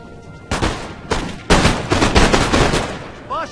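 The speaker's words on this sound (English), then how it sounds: "they will fire a full volley" Infantry musket volleys in the Napoleon Total War battle game, loud overlapping crackling bursts of gunfire that start abruptly and swell into a sustained fusillade, with brief gaps between waves.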